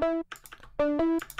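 Muted guitar sample from a stock Ableton pack with light distortion and no vocoding, heard as a short loop of pitched plucked notes alternating with clicky percussive ticks, moderately loud and alone.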